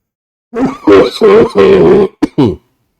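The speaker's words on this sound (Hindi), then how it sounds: "थोड़ी सी खांसी दिख रही है" Several rough, throaty coughs in a row, followed by a couple of short throat-clearing bursts, close and fairly loud, during an online class.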